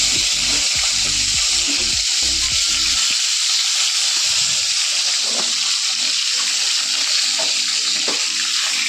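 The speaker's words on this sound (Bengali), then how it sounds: "এদিকে আমি ভাজা করব আলু ভাজা পটল ভাজা" Pointed gourd slices fry in a wok with a steady, close hiss. Several clunks and scrapes from the pan come in the first few seconds, and a few sharper crackles rise from the sizzle later on.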